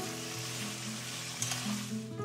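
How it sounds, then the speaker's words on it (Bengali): A large batch of potatoes with salt fries in a pan for vegetarian ghugni, giving a constant close sizzle with a short burst of stirring clatter midway and no talking. "এবারে লবণ দিয়ে আলুগুলোকে ভেজে নিচ্ছি"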